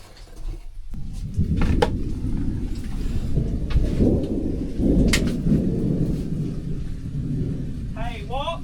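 Deep rolling thunder from an approaching thunderstorm over an Alabama cave dig, loud and sustained with a few sharper cracks, and faint rain-like hiss in the background.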